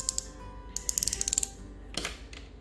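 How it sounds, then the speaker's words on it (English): A clicky eraser is clicked at a desk: a couple of quick ratcheting clicks, then a fast burst of about eight close, crisp clicks, followed by a brief scraping rustle and a few faint ticks. "in every one of these, I have used this clicky eraser"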